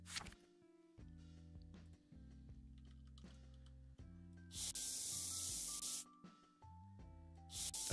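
A small airbrush sprays paint onto a model in short hissing bursts, three loud blasts separated by quieter stretches with a low hum and faint clicks underneath.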